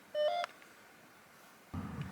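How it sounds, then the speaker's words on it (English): Short electronic beeps from a ghost-detecting phone app used outdoors on a mountain: a quick tonal chirp, a pause, then a second buzzy burst, faint and close. "Stop beeping."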